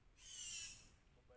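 A single brief, high screechy bird call rises and fades within a second, faint against a quiet background.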